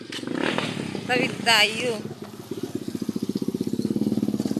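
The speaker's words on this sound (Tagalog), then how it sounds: "Ang bilis ng motor." A motorcycle engine sputters nearby in rapid, steady pulses as people talk over it, the engine growing clearer once the voices fade.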